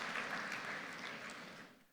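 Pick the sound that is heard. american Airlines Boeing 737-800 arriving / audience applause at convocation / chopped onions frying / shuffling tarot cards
audience applause at convocation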